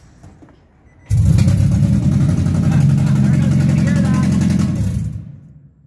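A car fitted with a catalytic converter clamp lock, its catalytic converter since stolen, cranks and starts up, then runs loud and close for several seconds before cutting off, with a deep rumbling roar.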